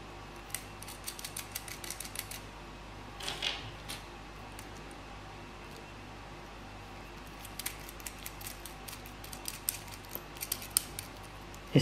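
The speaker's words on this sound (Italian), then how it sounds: "e stringiamo con il cacciavite a brugola in dotazione" A hex key tightens screws that fix motors to the chassis of an ELEGOO robot car kit, giving small irregular metallic clicks and scrapes, close and fairly faint, with no talk.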